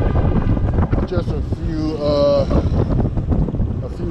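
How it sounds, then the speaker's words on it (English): Strong wind buffets the microphone while riding an e-bike through Philadelphia streets, a steady rumbling roar throughout with a faint higher tone in the middle. "the wind is really kicking out here today"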